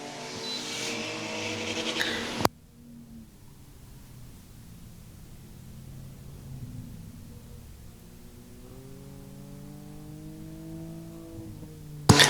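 V6/V8 enduro race cars run on the Star Speedway oval. A loud burst of engine roar cuts off abruptly, then a distant engine drone hums on steadily, rising slightly as cars pass.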